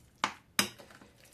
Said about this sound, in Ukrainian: гарно перемішуємо, можна навіть його трошки якби відбити, щоб гарно поєдналося наш фарш з. Зеленью